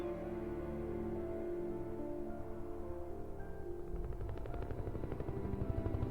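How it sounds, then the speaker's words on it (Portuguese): A helicopter in the video game Alan Wake Remastered thrums with a steady low rotor drone, with chopping blade pulses becoming more distinct in the second half, moderately loud and alone. "Vai derrubar o helicóptero."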